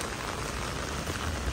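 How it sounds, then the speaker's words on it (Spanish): Torrential rain pours down in a dense, unbroken hiss of drops striking the ground, loud and steady throughout. "Les quería mostrar nomás acá cómo está lloviendo"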